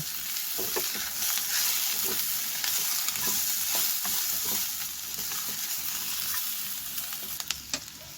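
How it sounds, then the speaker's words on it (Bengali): Sliced onion and diced capsicum sautéing in a pan for chicken patia, a steady close sizzle broken by repeated scraping and tapping of a spoon as the vegetables are stirred, with a few sharp knocks near the end. "চার মিনিটের মতন আমি এটাকে সতে করে নিয়েছি পেঁয়াজ আর ক্যাপসিকামটাকে"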